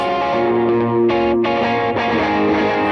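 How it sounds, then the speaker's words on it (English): Sustained electric guitar notes and a chord through a UA Ruby Vox AC30 with a Boss reverb's very mild setting, gentle reverb tail, played close and loud, no voices. "90A is just a regular... very, very mild reverb"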